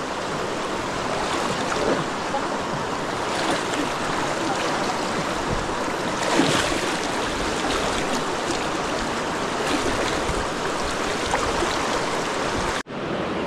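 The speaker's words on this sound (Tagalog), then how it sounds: "Pang-6 na to na ilog." A river crossed during a mountain hike on Mt. Negron rushes and burbles steadily in a close, continuous wash of flowing water, with no talking.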